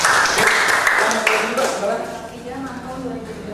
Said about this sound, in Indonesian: tepuk tangan untuk Mas Bintang